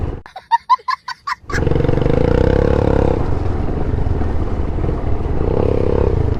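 A motorcycle runs loud and close along a village road, its steady engine roar taking over after a few short clucks from chickens at the start.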